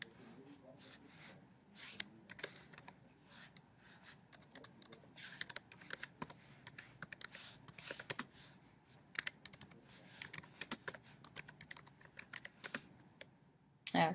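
Steady, fast clicking of computer keyboard keys, quiet and close, running continuously for about fourteen seconds without talk.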